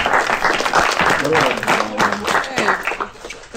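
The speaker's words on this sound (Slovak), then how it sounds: "Potlesk." Applause from spectators at a 3D archery match in Slovakia, a few seconds of scattered clapping mixed with nearby voices.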